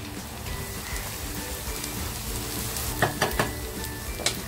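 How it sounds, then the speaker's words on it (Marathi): Crushed garlic drops into onions frying in hot oil for a kofta curry, giving a steady bright sizzle with a few sharp spatula knocks near the end. "कांदा छान फ्राय होते तर ना तोपर्यंत जी लसूण टेचून घेतली होती ती टाकते।"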